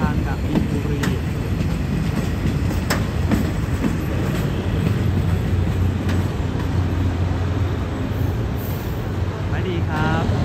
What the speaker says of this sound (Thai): GK4240 ขับขบวนรถออกจากสถานีมักกะสันครับ